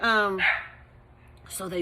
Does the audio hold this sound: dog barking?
yes